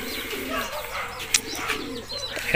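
Racing pigeons coo in low, repeated rolling calls, with a few brief chirps and a soft flutter mixed in nearby.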